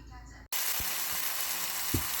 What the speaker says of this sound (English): I'm just going to get this beef all browned up